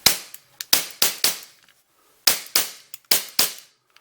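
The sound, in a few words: KWC Model 75 blowback BB pistol firing CO2 without BBs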